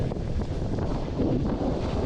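Steady wind buffets the microphone on California's Lost Coast near Petrolia, a constant rushing roar with slight gusts and no voices.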